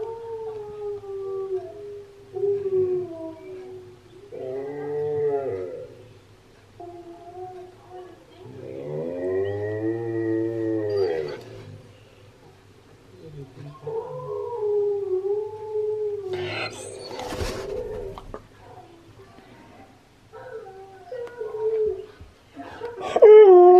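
A husky howls in long, wavering drawn-out calls, several in a row, with short yips and whines between them, close and fairly loud.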